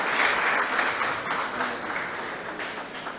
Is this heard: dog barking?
no